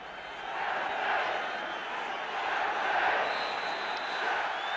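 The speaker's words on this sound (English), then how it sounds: "And the crowd at Stamford Bridge" Big crowd of about 31,000 at Stamford Bridge for a Chelsea versus Luton Town football match, a steady broad roar with gentle swells, heard from a distance with no commentary over it.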